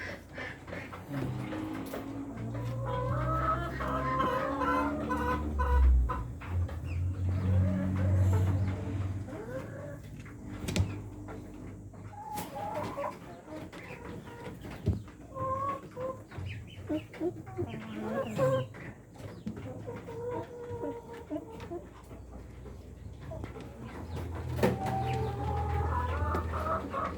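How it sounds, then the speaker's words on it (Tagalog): Rhode Island breeder chickens clucking in their cages, scattered clucks and calls of varying loudness over a long stretch, with a person talking at times. "Yan yung mga breeder natin na Rhode Island, mga Kabi Farming."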